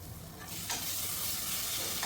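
Fresh-pounded ginger garlic paste frying in a pan, a short, steady hiss of sizzling that swells after a brief quieter start.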